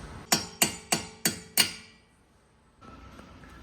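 Five evenly spaced, ringing metal hammer blows on parts of a 2023 Subaru BRZ, loud and close, each with a short metallic decay, followed by quiet shuffling.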